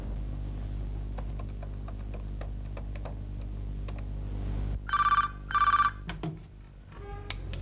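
A telephone rings over speakerphone in a TV drama scene, two distinct electronic ring bursts sounding after a stretch of ticking and low background hum, followed by faint clicks.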